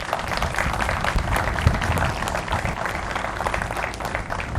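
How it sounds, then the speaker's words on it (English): Steady, moderately loud applause fills a room at a Melbourne police awards ceremony, a crowd clapping continuously for the awards committee with no voices standing out. "Give them a round of applause."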